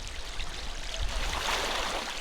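A 2019 Jaguar I-Pace electric SUV wading through water nearly 20 inches deep, a steady rushing, sloshing wash of water around the vehicle, continuous and moderately loud with no talk.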